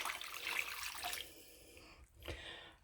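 Stock pours into a slow cooker for Welsh cawl soup, a soft continuous splashing stream that thins and stops, followed by a faint clunk, quiet and close.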